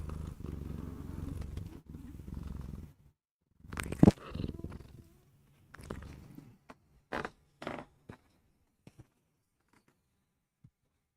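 A cat purrs close by in a low continuous rumble for several seconds, followed by scattered soft rustles, taps and brief bumps as the purring fades.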